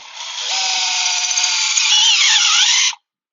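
A power drill drives a tap through a wooden deck board and the aluminum beneath, a steady loud whine about three seconds long whose pitch shifts slightly as the tap bites, then stops abruptly.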